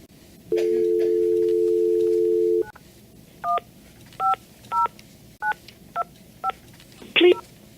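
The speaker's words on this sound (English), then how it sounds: "I'm just going to call her now." A telephone places a call: a held dial tone for about two seconds, then a string of separate DTMF keypad beeps at an even pace, ending in a brief final tone.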